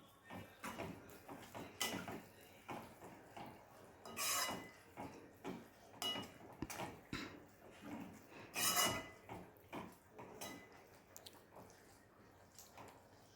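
A spoon works through cashew and ridge gourd curry in a pan, with irregular wet stirring, scraping and clinks against the metal that come in uneven bursts, close by, with no talk.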